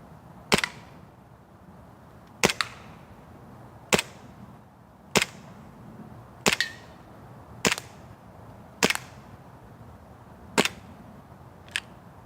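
Gas blowback WE Commander M1911 airsoft pistol fired on propane, about eight sharp single shots spaced roughly one to two seconds apart, loud and close outdoors.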